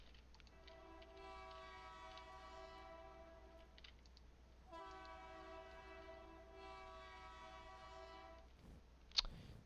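A train rolls past in the video game Teardown, its horn-like harmonic tone sounding in two long stretches over a steady low rumble, with a brief sharp click near the end.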